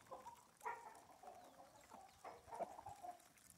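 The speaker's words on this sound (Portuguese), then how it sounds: "Tem uns galos grandes, bonitos aqui." Hens and roosters in a henhouse cluck softly and intermittently, with short scattered calls at moderate distance over quiet background noise.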